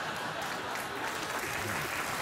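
Sustained studio audience applause at a late-night talk show, dense and steady throughout, no voices breaking through.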